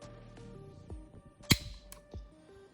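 A gun hammer snaps down onto a Brownell's hammer drop block during dry fire of a single-stage trigger, giving one sharp, close metallic click amid faint handling sounds.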